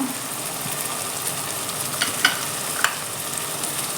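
Green chillies, coriander and mint leaves sauté in a pan with a soft, continuous sizzle, with a few sharp clinks of a spatula stirring the greens.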